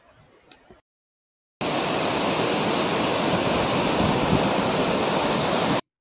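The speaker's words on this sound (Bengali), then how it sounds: "রাস্তায় একটা পাহাড়ি ঝর্ণা পড়লো, এত সুন্দর যে আমাদের একটু দাঁড়াতেই হলো।" A mountain waterfall by the road between Dirang and Tawang in Arunachal Pradesh roars in a loud, continuous, dense rush of falling water after a brief quiet start.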